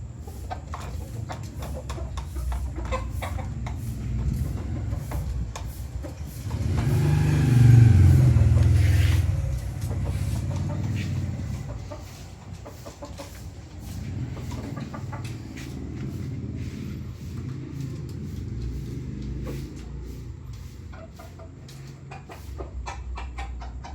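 Four-month-old McLean bullstag and stag gamefowl cluck sporadically near a coop, faint and scattered, while a passing vehicle swells and fades in the background midway.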